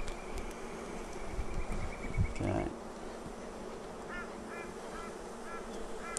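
Honey bees buzzing steadily around a Flow Hive being opened and smoked outdoors, a continuous insect drone throughout with a brief louder burst near the middle.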